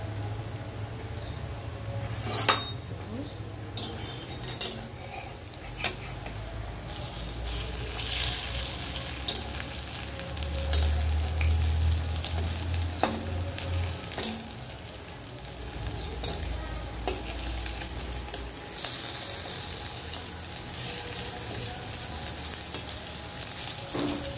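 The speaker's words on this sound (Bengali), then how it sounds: "সর্ষের তেলে ভাজছি।" Rice-flour fritters made with salt, turmeric and a little sugar, with gime greens, sizzle steadily in mustard oil in a pan, with occasional stirring clinks and scrapes over the continuous frying hiss.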